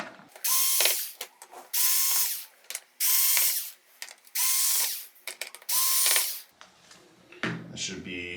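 Power screwdriver whirring in short bursts, about five separate runs, each spinning out a screw from the main board of a Samsung UN46F7100AF television, with faint handling clicks between them; close and fairly loud.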